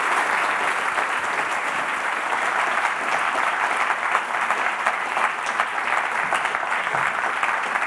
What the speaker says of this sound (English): I think a warm applause for Elena